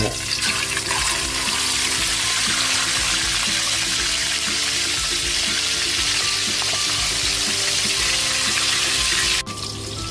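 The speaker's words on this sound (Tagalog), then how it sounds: "Mainit na yung mantika. Yun. Lagyan na natin yung ating isda." Loud, continuous sizzling and crackling of fish frying in hot oil, steady throughout, with a brief dip near the end.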